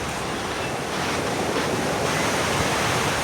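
Small waves break continuously along Mumbai's Chowpatty beach, a loud, unbroken wash of surf with wind noise mixed in and no voices.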